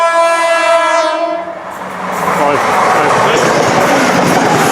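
A British Rail Class 170 diesel train sounds its horn, a loud multi-tone blast, then roars past close by with rising rumble and wheel clatter. A voice briefly speaks near the start.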